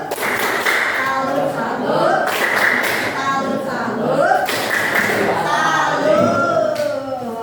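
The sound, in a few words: 'tepuk salut' rhythmic salute clapping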